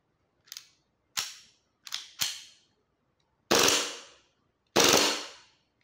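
A Hi-capa airsoft pistol, a custom TopCut build, fires six sharp, loud, close cracks: short bursts of single and paired shots, the last two louder and more ringing, separated by brief silences.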